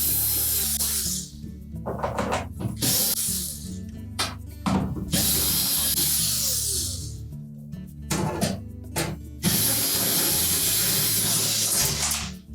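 A power drill runs in repeated bursts, backing 1/4-inch hex head screws out of the back panel of a Whirlpool refrigerator, with loud whirring spells broken by short pauses and clicks, no voices.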